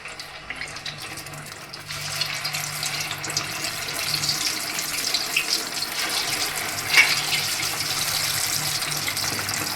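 Dough balls dropped into hot oil for a fried snack, a steady bubbling sizzle close by that starts quietly and grows fuller, holding as a continuous frying hiss.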